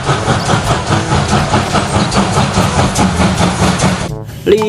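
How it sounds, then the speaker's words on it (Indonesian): A steam locomotive train rolls past with loud, continuous rumbling and rhythmic clatter from the wagons, holding steady for about four seconds before cutting off abruptly. "ini kereta api uap."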